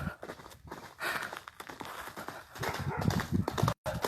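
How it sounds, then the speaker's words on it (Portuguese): A horse that has got loose, its hooves clip-clopping at a walk on hard ground. The beats are irregular and fairly close, mixed with rustling and a heavy breath or sigh, and nobody speaks. "Ixi, o cavalo escapou."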